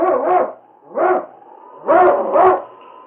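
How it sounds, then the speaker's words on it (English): A husky sled dog from a 1952 radio drama, giving four loud, close barks in an uneven rhythm, with a slight whine between them and no talk. "It's Yukon King, swiftest and strongest lead dog of the Northwest"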